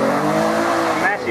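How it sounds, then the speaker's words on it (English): Race car at the 2014 Mt Alma Mile hillclimb, engine building revs with sharp crackling exhaust pops, loud and close, with a commentator talking over it. "building up the revs, snap, crackle, pop of exhaust"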